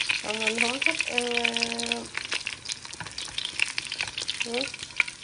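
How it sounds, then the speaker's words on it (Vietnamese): Shrimp frying in a pan for a noodle dish, giving a steady close sizzle with stirring, while a voice speaks over it with melodic tones at the start and near the end. "Rồi tôm là mình chiên lên cái dần dần như nè, để mình ăn mì."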